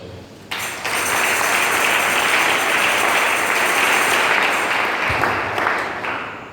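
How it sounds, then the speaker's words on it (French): A church congregation applauds together in a dense, loud, sustained wash of clapping that swells quickly and holds steady before starting to fade, heard without any voices. "Acclamons le Seigneur."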